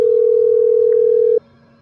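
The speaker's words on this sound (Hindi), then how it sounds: "फ़ोन लगाया जाए सम्पू बाबू को। Connecting to सम्पू Babu." A phone call is placed in the Surgeon Simulator game: a single loud, steady calling tone that holds for over a second and then cuts off abruptly, leaving faint background hiss with no voices.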